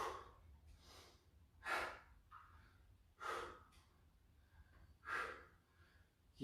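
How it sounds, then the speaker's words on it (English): Heavy, strained breathing during a cardio workout, with deep gasping inhales and exhales recurring roughly every one and a half seconds, close and fairly loud with no talking. "The breathing is getting tight and heavy."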